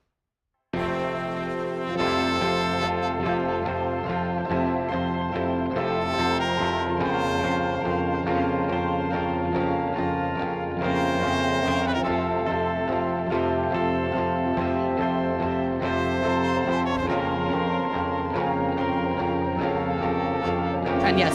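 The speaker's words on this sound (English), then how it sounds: "I duplicated the theremin sound and I did them in harmonies in the left and right channel." A theremin-like melody, duplicated and played in harmonies split across left and right channels, sustains loudly and continuously with gliding, wavering tones for about twenty seconds, without any voices.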